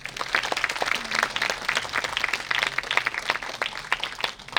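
Theatre audience applauding and cheering for an actor at a college production of Shaw's Pygmalion, steady dense clapping throughout with occasional whoops, fairly close and loud.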